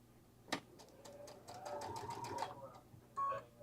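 A sewing machine stitches a quilted octagon in short bursts, its quick needle rattle starting and stopping at close range, with a sharp click and a brief electronic beep from the machine near the end.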